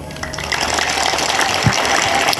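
Church congregation clapping together, a dense, loud wash of applause from many hands filling the space without pause.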